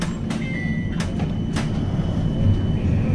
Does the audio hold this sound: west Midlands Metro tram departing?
yes